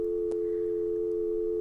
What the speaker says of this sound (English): We'll just keep that dial tone sound on.